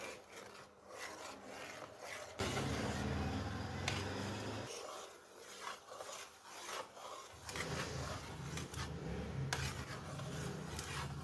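A spoon scraping round a pot of milk for homemade fruit custard, a steady rasping stir in repeated passes with short pauses between, close and clear, no one talking.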